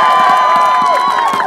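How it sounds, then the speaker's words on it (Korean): A Korean baseball crowd at a Nexen versus Lotte game cheers and claps for slugger Park Byung-ho, a loud, dense roar with rhythmic clapping and shouts throughout. "박수 한번 크게 부탁드릴게요."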